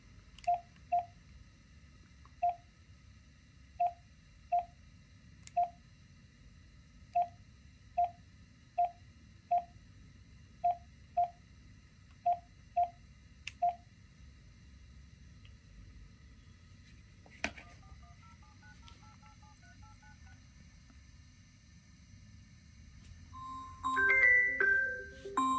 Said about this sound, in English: So let's dial the phone number again.